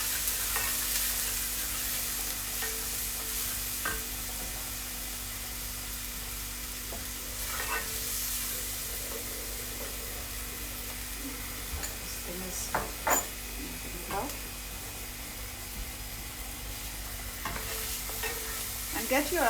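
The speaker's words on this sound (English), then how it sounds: "And get your onions nicely fried up." Onions fry with asafoetida, chili powder and coriander while being stirred, a continuous soft sizzle broken by scraping stirs and a few sharper clacks near the end.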